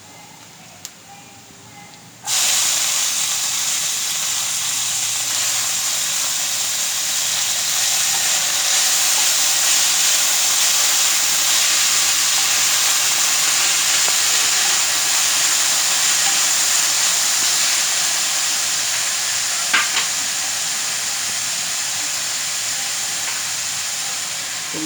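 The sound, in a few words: cabbage added to sizzling onion in a frying pan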